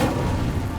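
The Incendio fire spell cast in the Hogwarts Legacy video game, a short dense whooshing burst of flame with a low booming roar, loud and close, no talking.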